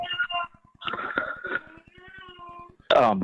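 A pet cat yowls and howls in several drawn-out cries, loud and close. It ends in a sharp high wail. A low rhythmic buzz runs underneath throughout.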